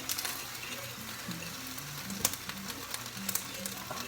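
Bacon and eggs frying in a pan, a soft steady sizzle with a low hum beneath and a couple of sharp metallic clicks of a fork against the pan.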